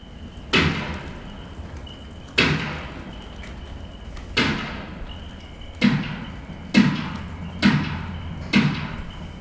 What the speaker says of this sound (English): Dixon also tested the sound a cricket bat would make when it hits a door